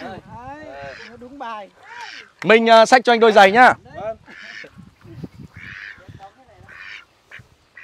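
Ducks honking and quacking in loud bursts close by, with a louder cluster midway, while people talk in Vietnamese around them in a village in Ha Giang.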